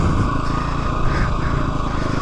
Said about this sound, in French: c'est du 4 temps, il y a du frein moteur